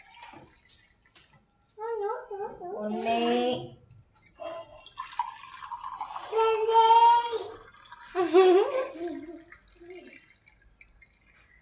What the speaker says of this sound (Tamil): எடுத்த அளவில் தண்ணி ஊற்றிக்க போகிறேன் அரிசிக்கு